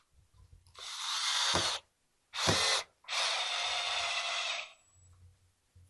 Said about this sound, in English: I take a pocket hole screw, put it in from the back, the rear.